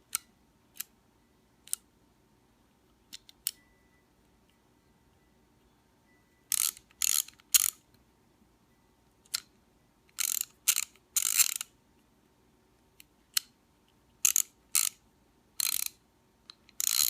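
A reassembled Stanley ratchet is tested in short bursts of sharp, close clicking, each burst a second or less, separated by quiet gaps, with a few isolated single clicks.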